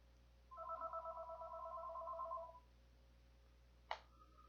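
A telephone rings once with an electronic warbling tone for about two seconds, fairly clear over a low hum, then a short click follows.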